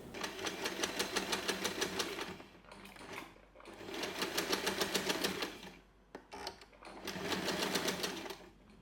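A sewing machine stitches a label onto the front layer of a tote bag pocket. It runs in three long, rapid, even bursts with short pauses between them, close and moderately loud, and nobody talks.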